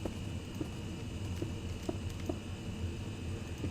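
A horse walks in Minecraft, its hooves giving soft, fairly quiet clip-clops at an uneven pace over a steady background hum.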